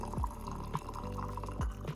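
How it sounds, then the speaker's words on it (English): Hot water is poured into a jar of carrot peels, giving a low, bubbly gurgle with a few sliding glugs and drips. It is fairly quiet and close, with no voices. "Then go ahead and fill the jar up with hot water."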